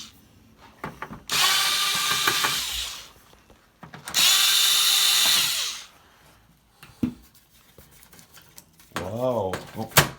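A power screwdriver backs screws out of the cover on a 1965 Hamm's Rippler beer sign, with two loud whirring bursts of a few seconds each, quiet handling in between, and a short mechanical whine at the end.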